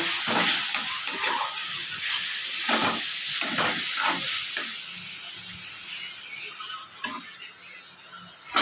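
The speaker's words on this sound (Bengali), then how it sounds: "গরম মশলার গুঁড়ো পরিমাণ মতো এবার এটা ভালো করে কষিয়ে নেব" Spiced masala with ground garam masala being stir-fried for a Bengali chicken curry, a steady close sizzle and hiss with scraping stirs and occasional clinks, no talk.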